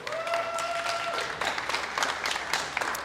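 Audience applause at a 1 Million Cups Brownsville TX morning gathering, a steady patter of many hands clapping at moderate volume for about three seconds, with a few whistles near the start.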